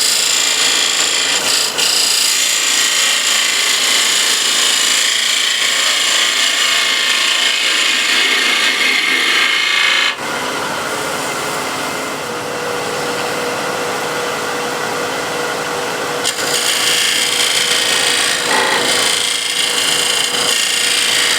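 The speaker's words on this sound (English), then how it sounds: "Spindle gouge, smaller one." A smaller spindle gouge shears wood turning on a lathe, producing a loud, continuous rasping and chattering scrape that briefly softens midway, close and without talk.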